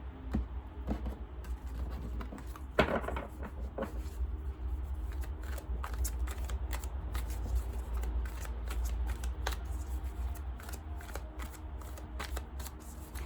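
Oracle cards being shuffled by hand, a long run of rapid crisp riffling clicks and slaps up close, continuous over a low steady background hum, with no talk.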